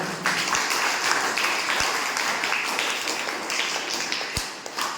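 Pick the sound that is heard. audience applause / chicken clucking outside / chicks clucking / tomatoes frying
audience applause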